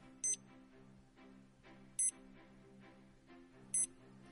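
Three short, bright electronic beeps from a Finis Tempo Trainer swim metronome, evenly spaced about 1.75 seconds apart, sounding clearly over a low steady background hum.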